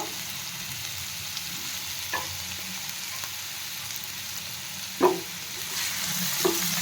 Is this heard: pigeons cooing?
no